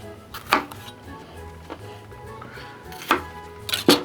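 A knife chops jalapenos on a cutting board, giving a few sharp, close knocks spaced irregularly over a quiet kitchen background with no talking.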